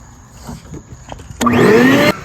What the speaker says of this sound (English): Alright, throw it on the vacuum